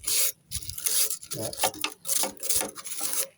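Rust being scraped by hand off a metal surface during a repair, heard as rough, rasping strokes in short bursts with brief pauses between them, fairly close, with a brief spoken word.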